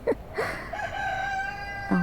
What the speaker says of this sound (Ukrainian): і півник відразу заспівав